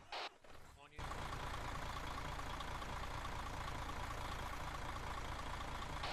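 In ARMA III, a BTR armored vehicle's engine idles as a loud, constant low rumble and rattle after a short quiet opening, with voices talking over it.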